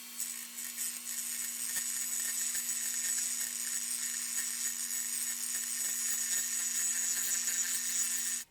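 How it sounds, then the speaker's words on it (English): A small rotary tool with a cutoff wheel grinds the metal hood of a Hot Wheels die-cast car, a steady high-pitched whine with a faint scratchy texture, close and fairly quiet, ending abruptly. "I'm going to use a little cutoff wheel and I'm just going to flatten out our hood a little bit"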